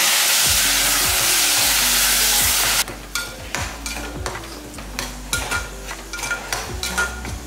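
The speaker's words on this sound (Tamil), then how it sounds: "இந்த அளவுக்கு நல்லா வதங்கினா போதும்" Tomatoes sauté in a pan for a green gram kadaisal, a loud steady sizzle at first, then quieter frying broken by repeated sharp scrapes and clinks of a spoon stirring against the pan.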